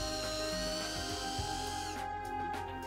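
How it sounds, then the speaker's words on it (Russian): A small power drill whirs continuously at close range, boring a 3 mm hole through a champagne cork, its steady motor tone wavering slightly. "В пробке сверлим отверстие 3 мм."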